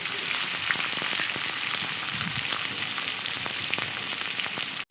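Chopped onion sizzles in hot oil for a banana-flower mochar ghonto, a loud, steady, dense crackling hiss that stays constant throughout and then cuts off abruptly.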